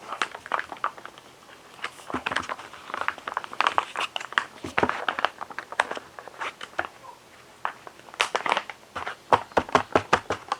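A freeze-dried corn chowder pouch being mixed and opened, with close crinkly plastic rustles and irregular sharp crackles and taps throughout, no talking.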